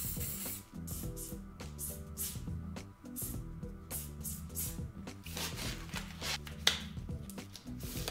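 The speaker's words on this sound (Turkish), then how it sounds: "Şuralara biraz mor sıkmak istiyorum." Spray paint hissing onto a PlayStation controller in purple, close and continuous, broken into short repeated bursts with faint rattles and clicks, no talking.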